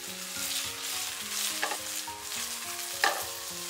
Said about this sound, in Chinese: 先不要着急给它翻动，将它煎至底部定型，然后再给它翻一面。